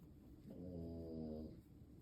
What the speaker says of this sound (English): snoring again